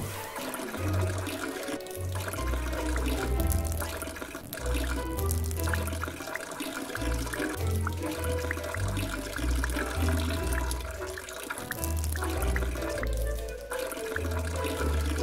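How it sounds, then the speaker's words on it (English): Urine splashing into a toilet in the game Manual Samuel, a steady watery trickle and splash that runs throughout with bursts of low gurgling, moderately loud and with no voices. "Sam tries to take a leak"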